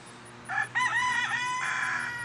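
A rooster lets out a loud, close cock-a-doodle-doo among a flock of chickens, the drawn-out crow rising and wavering over a low steady hum.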